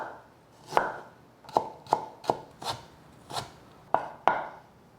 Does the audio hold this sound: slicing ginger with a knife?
yes